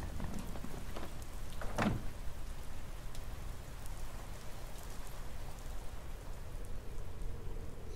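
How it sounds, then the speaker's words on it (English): Steady rain falls on a surface as a constant, fairly faint hiss of drops, with one brief sharper crack partway through and no voices. "Rain."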